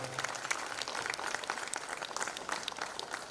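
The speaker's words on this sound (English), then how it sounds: "So let's give them a round of applause." Audience applauding graduates of an Academy of Hospitality & Tourism program, a faint, steady wash of many hands clapping heard from a distance.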